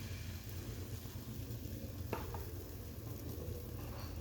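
Thin boondi batter for motichoor laddu frying in hot oil over low heat, making a soft, steady, faint sizzle with one small tap partway through.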